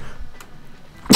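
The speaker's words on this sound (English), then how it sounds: "Oh, I'm gonna sneeze." A single sharp human sneeze bursts out close and loud right at the end, after a moment of near-quiet.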